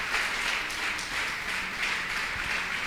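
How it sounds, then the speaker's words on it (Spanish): An audience at a religious panel forum gives sustained applause, an even wash of many hands clapping that continues without letup, fairly soft and slightly distant. "Denle un fuerte aplauso"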